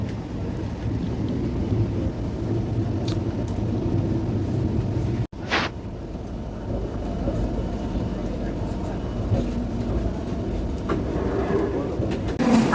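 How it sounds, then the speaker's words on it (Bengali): Steady low rumble of the Falaknuma Express, Secunderabad to Howrah, heard from inside an AC first class coach, a continuous muffled roar with one brief dropout midway and no talk. "আমাদের ট্রেনটি এবার প্রবেশ করছে পশ্চিমবঙ্গের গর্ব ও ঐতিহ্যের স্টেশন"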